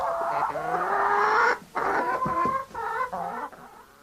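A black hen clucks and squawks in a run of loud, close, bright calls with a brief pause partway through.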